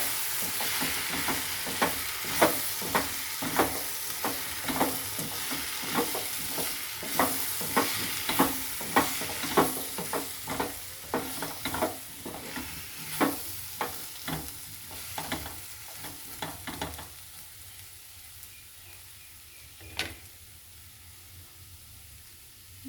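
Spoon stirring chili and coriander powder into a sizzling frying pan, with repeated scraping strokes over steady frying hiss that fade near the end, leaving a quieter sizzle and one final clink.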